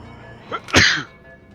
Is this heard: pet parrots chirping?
no